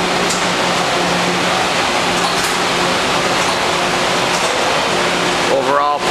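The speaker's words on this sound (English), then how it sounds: "84-inch Blanchard. We're going to be grinding some riser tables" An 84-inch Blanchard surface grinder grinds riser tables for a gear hob machine, giving a steady, loud, broadband grinding roar that stays even and continuous throughout at close range.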